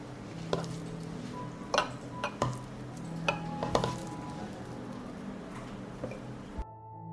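Meat goes into glass jars: soft, close handling noises punctuated by scattered clinks and knocks against the glass, separated by quiet gaps.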